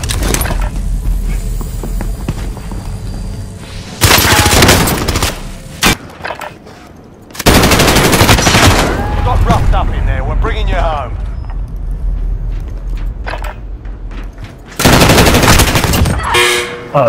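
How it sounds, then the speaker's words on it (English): Video game gunfire rattles in loud bursts of rapid automatic shots, several heavy volleys spread across the stretch, while players talk excitedly over and between them. "Oh my god, I'm shooting."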